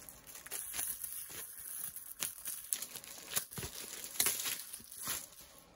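Plastic wrapping crinkles and tears as it is peeled off a Halo Infinite Master Chief Funko Pop box, with quiet, close, intermittent rustles and crackles.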